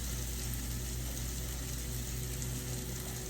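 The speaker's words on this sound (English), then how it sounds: "I'm going to give our rice a little bit of a stir fry and all those delicious juices" Cooked rice stir-fried in a hot pan with leftover meat juices, producing a continuous, even sizzle and hiss close by with a low steady hum underneath and no voices.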